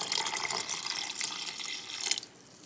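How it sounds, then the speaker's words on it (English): Water poured into a cooking pot while making Ecuadorian llapingacho, a steady splashing gush that runs for about two seconds before stopping abruptly, close and without speech. "I'm gonna put a little more water."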